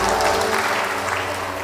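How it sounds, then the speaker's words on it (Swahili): Church congregation clapping together after a blessing at a Kikuyu service, a dense, steady burst of applause that fills the room at full loudness for the whole moment, with no voices standing out. "Tuwape makofi."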